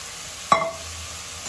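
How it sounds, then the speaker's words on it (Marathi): Fresh fenugreek leaves land in a hot pan with a sudden soft thump, then a quiet sizzle that fades; no talking. "ही आता ह्यात आपण मेथीची भाजी घालतोय"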